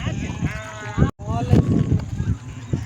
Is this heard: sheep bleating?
yes